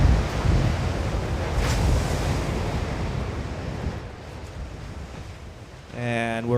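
Ocean surf rolling and breaking at Sunset Beach during a pro surfing contest, a continuous loud wash of waves with wind noise on the microphone, and a voice starting at the very end.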